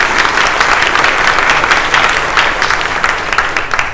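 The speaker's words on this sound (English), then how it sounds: "Let's give a big, big applause to our choir." Inside a Catholic church in Tampa, Florida, a congregation gives the choir sustained, dense applause, many hands clapping loudly and continuously at close range.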